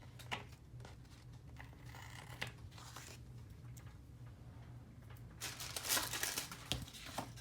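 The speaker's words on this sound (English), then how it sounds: "So let me just go ahead and trim these down." Sheets of planner paper being trimmed for a binder, giving soft crinkling, scraping and cutting sounds up close, with a louder, brighter burst of rustling near the end.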